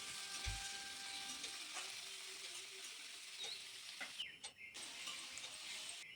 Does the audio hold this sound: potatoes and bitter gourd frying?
yes